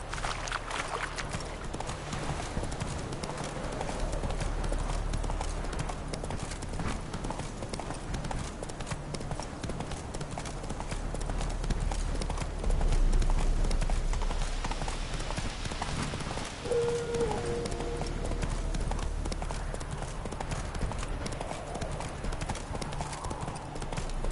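Steady rhythmic clip-clop of hooves from the horse Roach galloping in The Witcher 3, continuous and fairly close over a low ambient rumble.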